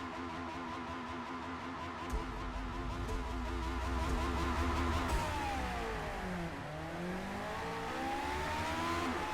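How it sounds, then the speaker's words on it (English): A 1970s race car in Forza Motorsport revs and accelerates, its engine note climbing in steady harmonic sweeps, dropping briefly and rising again, loud and continuous with no talk over it. "Yeah, we're revving."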